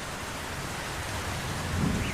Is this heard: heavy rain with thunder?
yes